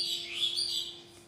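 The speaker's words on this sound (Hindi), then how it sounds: "पंछियों की चहचहाहट ज़्यादा आ रही है।" Outdoors in a natural setting, birds keep up a steady, high chirping and tweeting at moderate volume, with no voices over it.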